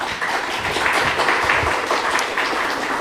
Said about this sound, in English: give a round of applause to our